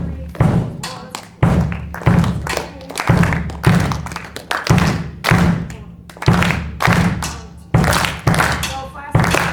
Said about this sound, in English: Everybody clap this.